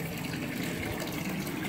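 A powerful Tetra Pond pump pushing out a steady, broad gush of lake water into a backyard pool pond, continuous and moderately loud with no talk.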